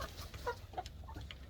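Farm chickens being fed, giving a few short soft clucks close by over a low background hum, with no one speaking.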